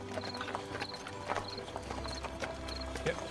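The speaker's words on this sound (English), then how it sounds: "So Ogvar, you are able to keep the horses going" Horses pull a wagon with a steady, brisk clip-clop of hooves and an occasional snort or whinny, while faint voices talk underneath.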